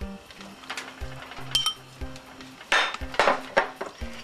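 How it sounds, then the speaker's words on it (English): Metal spoon scraping and clinking in a cooking pot of pepper steak with mushrooms and peppers, soft irregular knocks and clanks close by, a few louder clatters toward the end, with no talk over them. "Give it a good stir."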